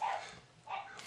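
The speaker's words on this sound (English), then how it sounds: "Had to go make sure my dog had food and water because he was barking" A dog barks twice, a sharp close bark followed by a second one just under a second later, both fairly loud with a brief quieter gap between them and no talking.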